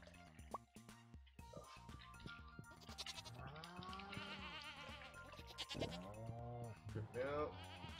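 Goats bleat in the farm game Stardew Valley, several short, tuneful animal calls rising and falling over game music, with a person talking across much of the stretch.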